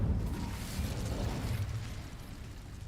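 Incendio fire spell cast in Hogwarts Legacy, a dense roaring burst of flame that swells and then tapers off over a few seconds, with no voices over it.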